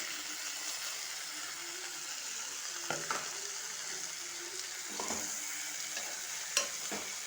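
Chopped tomatoes being stirred into frying okra in a pan give a soft steady sizzle, broken by a few sharp scrapes and clinks of a spatula against the metal.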